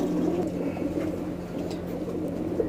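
A roller tumbler pigeon in Bangalore, India coos in a low, steady, continuous murmur, close and fairly loud, with faint higher chirps from other birds and no voices.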